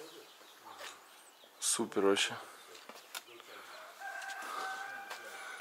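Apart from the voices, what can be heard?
fighting chickens clucking and crowing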